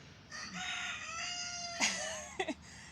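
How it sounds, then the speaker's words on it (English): A young backyard rooster crows once, a drawn-out cock-a-doodle-doo rising and holding before trailing off, close and clear, followed by a couple of short clucks. "he's just taken up crowing big time"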